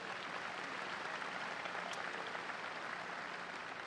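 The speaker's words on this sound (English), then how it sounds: "That's a round of applause," A large audience at Bowling Green State University's 2019 summer commencement applauds in a dense, steady wash of clapping that holds evenly throughout, heard from a distance and fairly faint, with no voices over it.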